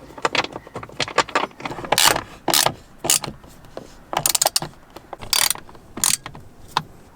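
Longer screws driven in to lock a Tesla Model Y Juniper power swivel display into its new bracket, heard as a series of sharp mechanical ratcheting clicks in short irregular bursts, close and fairly loud with no talking.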